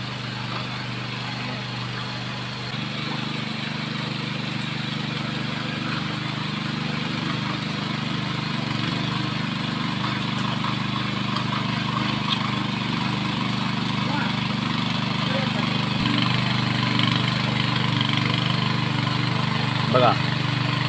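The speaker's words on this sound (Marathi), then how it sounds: "भर पावसामध्ये ते भिजून ट्रॅक्टरने जमीन नांगरत आहेत" A tractor engine drones steadily while ploughing a rain-soaked rice field in a village, a continuous mid-pitched mechanical hum that holds level throughout, blended with a broad wash of rain or outdoor ambience.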